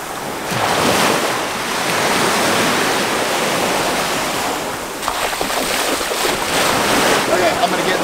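Ocean surf rolls and breaks steadily against the shore with strong wind buffeting the microphone, a loud, continuous roar close by.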